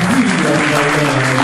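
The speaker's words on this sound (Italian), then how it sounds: "Un applauso a loro." An audience at an Italian lecture on Galileo and wine breaks into dense, sustained applause that fills the room. The clapping is loud and even, with no talking over it.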